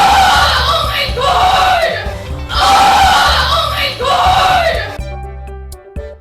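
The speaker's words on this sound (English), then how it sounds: "the young woman starts screaming very loudly" A young woman screams loudly and at length after a prank, shrill piercing bursts in two long waves with brief breaths between, the shrieking cutting off abruptly near the end.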